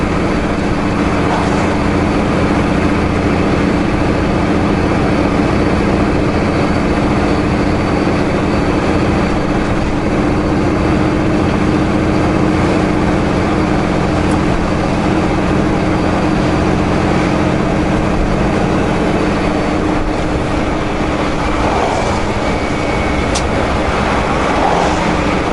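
Heavy truck engine running steadily and loud throughout, a continuous low rumble through a downshift on a snowy road in the Okanagan Valley, with no voices.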